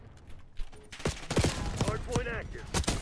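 Gunfire in the Call of Duty beta, a modern shooter game: a rapid string of sharp shots and bursts, fairly close, with someone talking quietly under the shooting.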